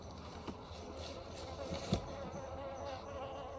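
Honeybees of a northern race buzzing in an opened hive, a soft continuous hum of many insects close by with a few faint knocks, quiet overall.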